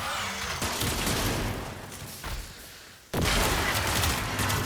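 Gunfire in a fast shooter video game run, a continuous dense volley of shots with a short lull before a sudden loud burst resumes, steady and close throughout.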